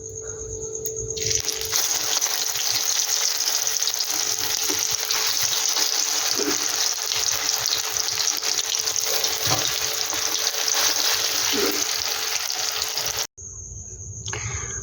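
Stuffed pointed gourd (potol) fries in a pan with a loud, continuous sizzle and occasional stirring scrapes, cutting off abruptly near the end before fainter sound resumes.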